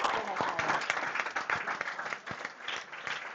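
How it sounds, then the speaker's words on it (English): An audience claps and cheers in a dense, steady burst after a closely fought match at a table hockey finals event, with individual hand claps standing out in the mix. "And the crowd goes crazy"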